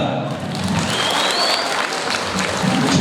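An audience at a Kazakh wedding party claps together to imitate rain during a game rehearsal, producing dense, steady applause throughout with a faint voice in the background.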